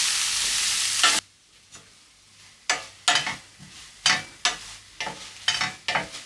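Cauliflower pasta sauce sizzling loudly in a pan at first, then a spoon stirring it in repeated scraping strokes with softer frying between, close and clear, no voices.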